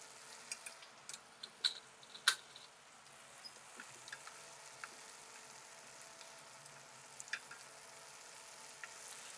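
Cubes of tofu deep-fry in hot oil for hongshao tofu, a steady, quiet sizzle with scattered sharp pops and crackles, strongest early on, and no one speaking.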